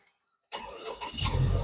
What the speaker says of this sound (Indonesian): Wah, suara mesin boxer ya